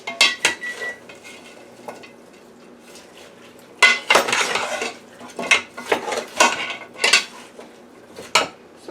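A spoon stirring goat stew with water and onions in a pot, giving irregular clinks and scrapes against the metal in short bursts with brief quiet gaps, close up, no voices.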